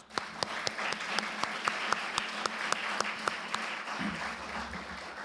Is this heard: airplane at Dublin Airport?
no